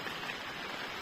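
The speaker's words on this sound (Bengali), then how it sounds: "শাকির অ্যাপেল, জোরে বৃষ্টি এসে গেছে।" Heavy rain pours down outdoors as a dense, steady hiss that fills the whole moment, with no voices.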